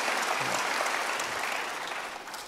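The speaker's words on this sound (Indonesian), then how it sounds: "Give him a big hand." A church congregation claps for a guest pastor, dense sustained applause that starts full and gradually tapers, with no voices over it.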